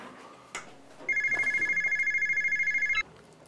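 A telephone rings once in a home, a loud electronic warbling trill lasting about two seconds after a soft knock, then quiet room tone.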